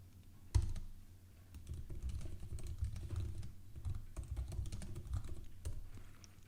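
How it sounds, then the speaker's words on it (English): Soft, quick keystrokes on a computer keyboard in irregular bursts, close and fairly quiet, with no talk. "And then we type."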